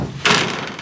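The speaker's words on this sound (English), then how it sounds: "Now we'll just open their doors and let them out" A rabbit hutch door on a winter homestead opens with one short, sharp knock or scrape, close and brief against quiet background.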